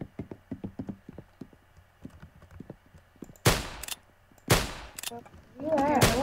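Gunfire in the Roblox shooter game Arsenal: a run of quick, sharp game gunshots in bursts, followed by several loud, close blasts and a final burst, with a voice briefly heard near the end.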